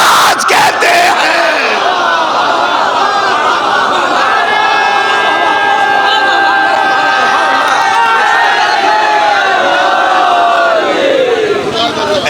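A large crowd at a religious Safar gathering in Maqsudanchak raises a loud, sustained collective chant, sheer massed voices holding long notes for several seconds without any single speaker.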